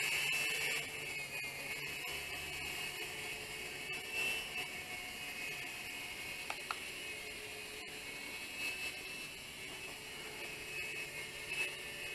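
A GoolRC Explorer RC helicopter flies with a steady, continuous high-pitched whine and whir that holds fairly even and close throughout, with no voices.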